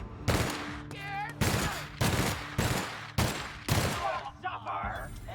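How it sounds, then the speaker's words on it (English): A light machine gun in The Outer Worlds fires several loud, close bursts with short gaps between them, and a voice speaks briefly between volleys. "It's a light machine gun"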